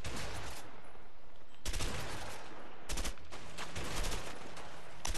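Gunfire during a shootout in the video game A Way Out: several bursts of sharp shots in quick succession, loud and broadband, with short gaps between volleys.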